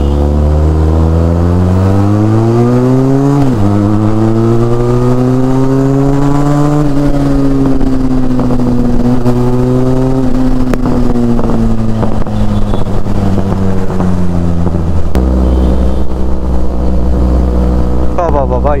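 Large Independence Day rally of 50+ motorcycles riding together on a city road, a loud continuous engine drone with rising and falling revs close by, steady throughout and rising over the background.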